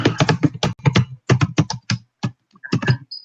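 A website address is typed on a computer keyboard: quick close bursts of key clacks come in short runs separated by brief pauses, with no voices.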